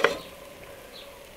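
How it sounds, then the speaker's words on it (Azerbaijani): A pan of onions frying in oil opens with a sharp scrape of stirring, then settles into a soft, even sizzle. "Yağla soğanı sarılana dək qovurduqdan sonra"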